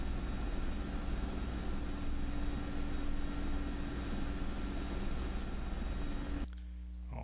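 Steady drone of a Mi-24P Hind helicopter's rotor and turbine engines in DCS, a loud constant whine and hum from inside the cockpit that cuts off abruptly near the end.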